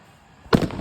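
A sharp, loud Diwali firecracker bang bursts suddenly after a quiet moment, followed by a brief crackling tail.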